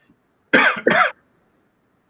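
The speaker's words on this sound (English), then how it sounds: "sorry about the cough" Two sharp, loud coughs in quick succession, close to the microphone, with quiet before and after.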